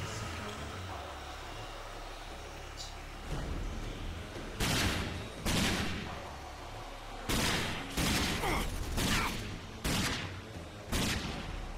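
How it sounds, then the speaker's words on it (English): Gunfire in the first-person shooter Rage: bursts of shots crack out in clustered volleys, several sharp loud blasts spaced across the stretch after a quieter opening with ambient game noise. "Shooting at me."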